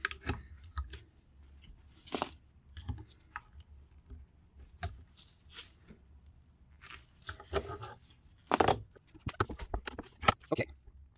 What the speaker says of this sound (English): Piece of rubber I gotta cut off there.